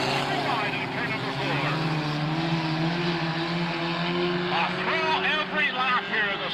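Stock cars roar steadily around an oval track during a race, a continuous engine drone with passing swells, under a commentator talking throughout.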